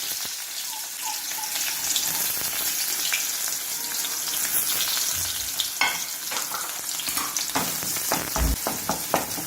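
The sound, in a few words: small onions and garlic sautéing in oil for dry fish curry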